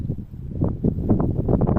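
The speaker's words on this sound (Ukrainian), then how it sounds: "Такий вітер." Gusty wind buffeting close against the microphone, low rumbling thumps that rise and swell over a couple of seconds.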